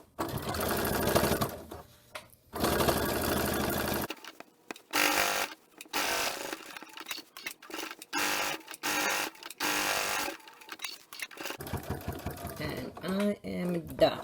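A sewing machine stitches binding through thick layers of a pot holder, running in loud bursts of rapid mechanical whirring with short pauses between runs, while a person talks over it.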